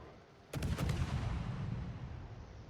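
Udaloi gunboat firing its naval guns in a warship video game, a sudden close salvo of several quick booms followed by a long rumbling decay.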